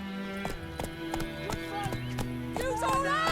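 Horse galloping in The Witcher 3, steady clip-clop hoofbeats pounding in rhythm close by, with music and a voice speaking over the hooves.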